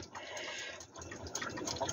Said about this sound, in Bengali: হাফ কাপ অলিভ অয়েল দিলাম